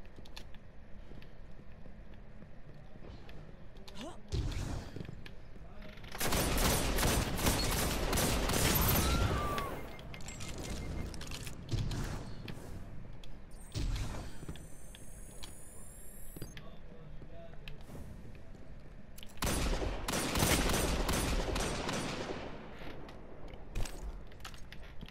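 Bursts of rapid gunfire from the video game Destiny 2 come in two dense volleys, loud and sustained, separated by quieter stretches of mechanical clicks and ambient game noise, with a brief metallic tone in the middle.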